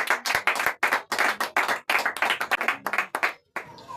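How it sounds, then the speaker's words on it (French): A church congregation claps and applauds during a Sunday service, a dense, loud, continuous burst of many hands that cuts off sharply near the end, with no speech. "Que le Seigneur vous bénisse encore. Acclamons Jésus"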